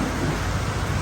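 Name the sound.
heavy rain during a temple festival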